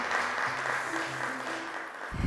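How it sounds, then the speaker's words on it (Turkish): Applause fills a children's quiz show studio after a correct answer. The clapping is steady and sustained for about two seconds, then ends with a low thump. "alkışlar."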